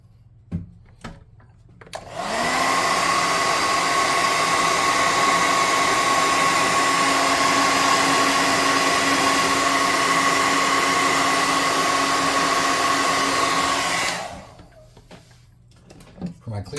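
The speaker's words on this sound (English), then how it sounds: "Now let's air gun him one more time. Dry that flock in place a little better" An air gun blasts over a painted wooden tabletop miniature to dry flock in place, a loud steady rushing whoosh that starts abruptly, holds for about twelve seconds and then cuts off, with brief handling noises before and after.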